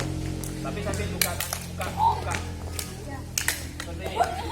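Hand claps during a jumping exercise in a physical education lesson, a handful of sharp separate claps at irregular spacing over background music while an instructor speaks.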